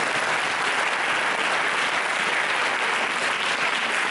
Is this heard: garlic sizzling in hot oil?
no